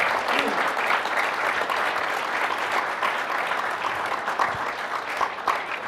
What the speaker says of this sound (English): I think you deserve a special round of applause.